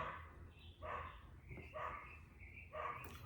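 Dogs barking outdoors in the distance, several faint barks in separate bursts about a second apart over a steady background hum.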